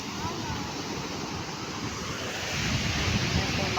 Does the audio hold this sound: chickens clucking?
no